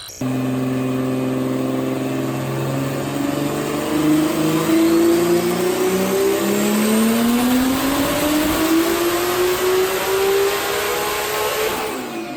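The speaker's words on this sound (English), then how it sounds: "Cut to some dyno pulls from this guy, because it sounds amazing." A Subaru WRX with a swapped Skyline GTR engine revs hard on a dyno and steadily climbs in pitch through a long, loud pull, holding near full power before easing off at the end.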